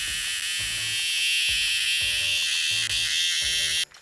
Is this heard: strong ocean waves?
no